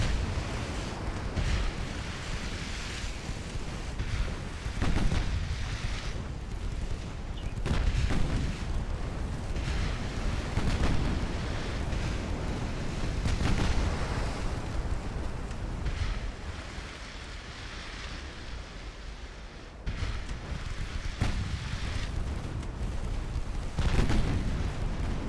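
Naval guns firing in the warship battle game Ultimate Admiral Dreadnoughts, a dense run of heavy booming blasts and rumbling bursts rolling one after another for the whole stretch, loud and with no talk.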